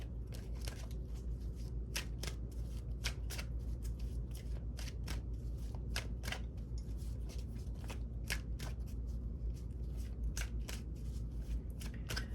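Tarot cards shuffled continuously by hand during a spirit reading, a steady soft riffling with sharp flicks and slaps scattered throughout, close and quiet, no talking.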